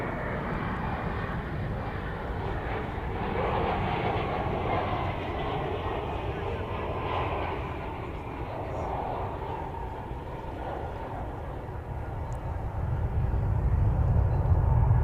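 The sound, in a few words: American Airlines jet departing runway 18 left at DFW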